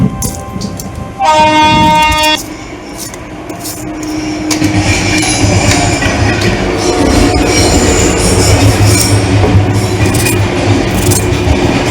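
A mixer grinder grinds ginger, onion, green chillies and spices: a loud whirring whine that starts abruptly, dips briefly, then builds into a sustained, rough mechanical roar running to the end.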